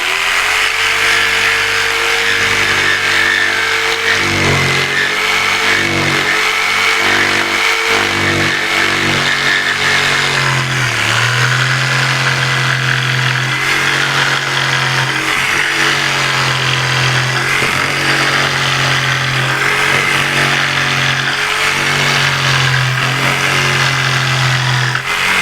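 A motor saw cuts through bamboo in an Amazon setting, its engine droning loudly and continuously up close, with the pitch dipping and rising in repeated surges as the blade bites into the cane, and no talking.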